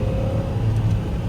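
A Mahindra KUV100 held in third gear as the driver floors it to overtake a truck, a steady close engine drone and road rumble with a faint rising whir, with no talking.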